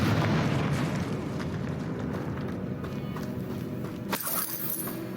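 A Confringo blasting spell explodes in the fantasy game Hogwarts Legacy, a loud rumbling blast that fades into a low roiling wash, with a sharp crackling burst near the end.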